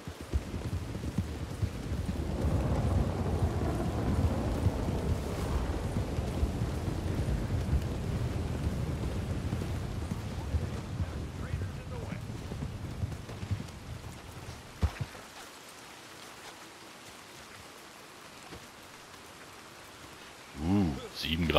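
Heavy rain and low rumbling thunder in the video game Red Dead Redemption 2 roll steadily for about fifteen seconds, then fade to a quieter patter before a voice speaks briefly.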